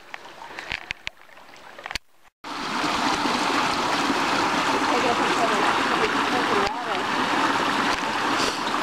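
People wade through a cold canyon stream, legs sloshing and splashing in a continuous loud churn of water after a few scattered knocks and a brief pause, the rushing lasting to the end with a short dip near the close.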